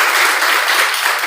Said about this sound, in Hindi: आप लोग ताली बजाएं